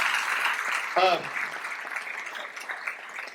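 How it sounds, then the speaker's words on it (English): Town hall audience applauding a guest, a steady wash of clapping from a crowd with a brief voice cutting through near the start. "let's give him another big round of applause"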